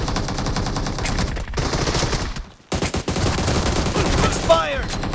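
Rapid automatic rifle fire from an AKM or Groza in the mobile game BGMI rattles in loud, sustained bursts, with a short pause midway before firing resumes.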